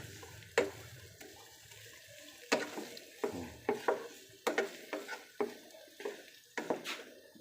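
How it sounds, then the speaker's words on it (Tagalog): Onions fry toward golden brown for chicken biryani, a soft crackle of oil punctuated by repeated sharp scrapes and knocks of a spatula stirring in the pan. "Ayan, malapit nang mag golden brown ang ating onion."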